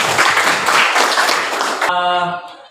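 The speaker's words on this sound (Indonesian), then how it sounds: "kita beri tepuk tangan untuk kelompok proposal" Students in a ninth-grade science classroom clap for a student group, a short burst of close, fairly loud applause that cuts off abruptly, followed by a brief tonal sound.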